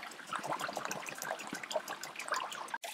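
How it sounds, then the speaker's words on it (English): Hash wash water drains through micron filter bags into a tub below, a close, uneven trickle and dribble with small splashes that continues almost without pause. "the water's draining down into the bucket below, into the tub"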